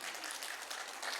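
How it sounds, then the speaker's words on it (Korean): Church congregation clapping in response to a pastor's request, a steady dense patter of applause that holds evenly across the moment, moderately quiet with no voices over it. "그래서 박수 해주세요."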